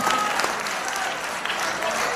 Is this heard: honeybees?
no